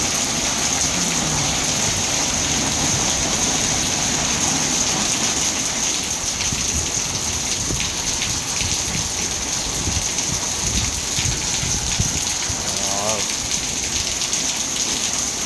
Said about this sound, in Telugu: మామూలు వాన కాదు